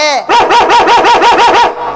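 Female dog barking loudly up close, a quick run of about six sharp, evenly spaced barks that ends in a short whimper.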